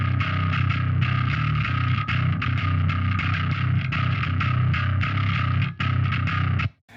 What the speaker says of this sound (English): The gritty bass tone sounds like this.